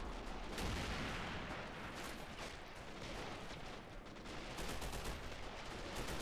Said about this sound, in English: AT guns and mortars firing at the infantry